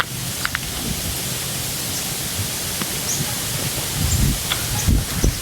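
Steady rain falls in bad weather as a cold wind blows, forming a constant broadband hiss with occasional low gusty rumbles and no voices.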